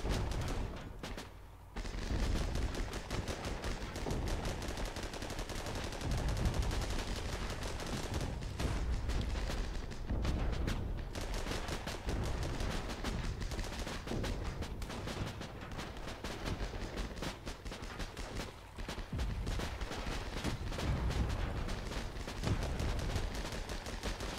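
Mortar and gunfire in an armoured combat video game: dense, continuous barrages of booms and shots rolling loud throughout with no gaps.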